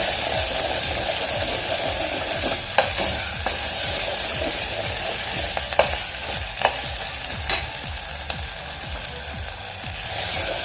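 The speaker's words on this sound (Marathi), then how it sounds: "टॉमॅटोही आपण व्यवस्थित परतून घालूया" Chopped tomatoes fry in a pan with already-browned onion over a low gas flame, giving a steady, close sizzle broken by several sharp scraping clicks as a spoon stirs them.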